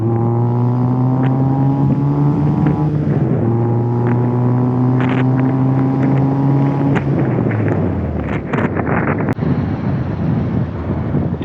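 A K20-swapped Honda Civic engine revs gently, its steady droning tones dipping in pitch, with a rotational whirring from a fault and rising wind rush as the car moves.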